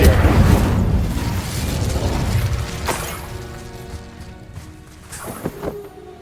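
A fire spell cast in Hogwarts Legacy, a loud whooshing burst of flame with a crackling roar that swells at once and slowly fades, followed by a few sharp magical zaps near the end.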